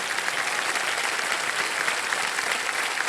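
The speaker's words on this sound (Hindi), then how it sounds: "देवा ये ताली बज जाए इनके लिए।" Steady applause from a game show studio audience, dense and continuous, loud and close, with no pauses and no clear voices over it.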